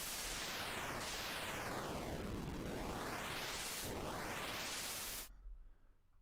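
A Magical8bitplug2 chiptune synth plays loud, harsh noise-like 8-bit bursts whose pitch sweeps repeatedly from high to low and back up in V-shaped arcs, then cuts off abruptly into near silence.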